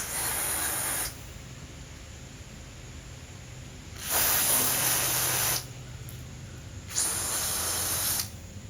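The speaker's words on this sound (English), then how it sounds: "just focus on spraying that area that we talked about" Three bursts of hissing aerosol cleaner sprayed into the engine intake of a Lexus ES300, each lasting one to two seconds, close up over a quiet background hum.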